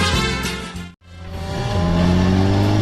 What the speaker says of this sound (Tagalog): Gapo iti pa nagpataray ni Tata Badong iti motorsiklo na